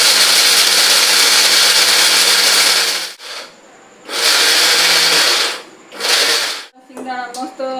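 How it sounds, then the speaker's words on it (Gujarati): A mixer grinder crushes two handfuls of peanuts in a mixer jar, running in loud whirring bursts: one long run, then two shorter pulses separated by pauses, and a voice briefly at the end. "તો ચાલો ફટાફટ આપણે સિંગદાણાને મિક્સર જારમાં ક્રશ કરી લઈશું"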